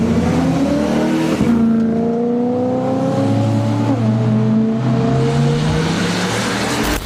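A BMW M3's naturally aspirated V8 revs out loud and close, its tone climbing smoothly, falling sharply at a gear change around the middle, then rising again with a rich, layered engine howl over road noise.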